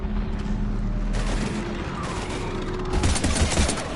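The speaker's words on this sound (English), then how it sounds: "we're taking heavy fire" Heavy gunfire in the Mass Effect video game comes as a steady, dense barrage of rapid shots and blasts, loud and continuous, swelling toward the end.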